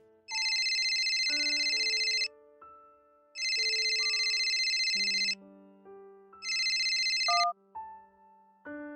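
Electronic telephone ringtone for an incoming call, three long trilling rings with a steady melodic tone underneath, loud and close with no voices.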